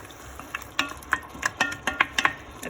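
A spoon stirs tinned tomatoes in a pan, making a quick series of wet, clicking scrapes against the metal in an uneven rhythm, close and fairly loud with no talk.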